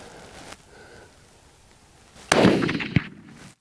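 A single hunting rifle shot fired at an impala, one sharp loud crack with a short rolling echo, then a faint metallic click of the rifle.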